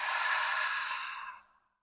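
A long, deep exhale during a hatha yoga breathing exercise, breathy and close, holding steady before trailing off into silence after about a second and a half.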